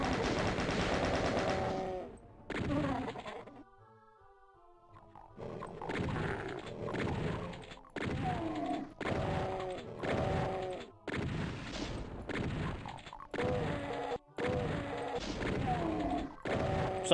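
Gunfire in the shooter game DOOM as demons are shot down: loud, rapid machine-gun bursts and heavy blasts repeat in choppy volleys, broken by a short quieter gap with tonal game sounds, with no talking.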